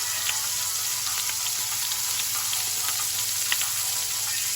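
Colossal sea scallops sear in a pan over high heat, giving a loud, continuous sizzle and crackle with no break.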